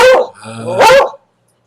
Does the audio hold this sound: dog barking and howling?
yes